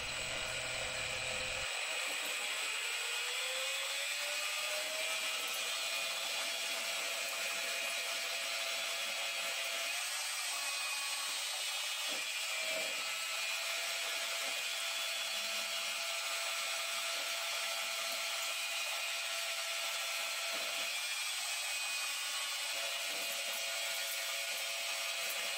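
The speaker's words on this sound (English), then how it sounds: "Now I'm enabling the turning mode. And the NanoEls controller does the rest." Metal lathe turning a workpiece under a NanoEls electronic leadscrew controller, a steady faint high-pitched machining whine running throughout with no talk.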